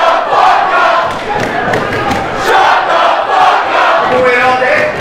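A large wrestling arena crowd roars and cheers steadily, loud and dense throughout with no pauses.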